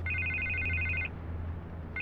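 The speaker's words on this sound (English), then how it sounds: "I can't get the phone to stop ringing." Telephone ringing in Batman: The Telltale Series, a single bright electronic ring burst followed by a short pause and the start of the next ring, heard alone at moderate volume.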